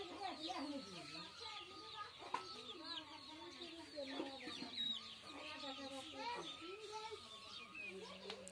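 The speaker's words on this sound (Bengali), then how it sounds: "আমার ভিডিওতে মুরগি দেখতেই পাবেন," Chickens clucking around a village home, repeated close clucks and squawks scattered over a busy yard with children's voices and other chatter mixed in.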